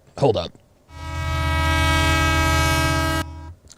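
A train horn blares as one long, loud, sustained blast of about two and a half seconds, following a brief burst of speech.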